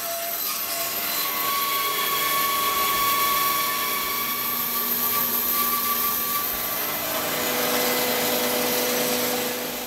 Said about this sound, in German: Entlang der Markierung sägt Horst Perk überall da, wo es mit dem Ziehmesser nicht geht oder keinen Sinn macht